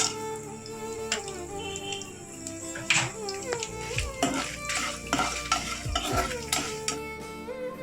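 Whole spices, including coriander seed, dried red chillies, cinnamon and cloves, sauté for a mutton pepper masala: repeated spoon scrapes and clinks against the pan over a steady sizzle, close and fairly loud throughout.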